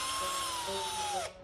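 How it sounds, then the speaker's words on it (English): Power drill boring a hole through a car's panel to mount an AEM air/fuel gauge in a cammed SRT8, a steady high whine that sags slightly in pitch as it cuts, then winds down and stops abruptly, close and alone. "So what we finna do is drill 4 holes."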